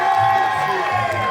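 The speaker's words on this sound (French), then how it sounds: "Je pense qu'on peut l'applaudir une dernière fois quand même." Audience applauding and cheering at the end of a comedy magic show, a loud, steady crowd roar with clapping and whoops throughout, close and dense.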